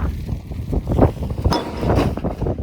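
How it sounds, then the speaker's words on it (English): Strong wind on a farm buffeting the microphone in broad gusty rumbles, with faint clinks and rustles in between and no talking. "It's very windy, very unpleasant."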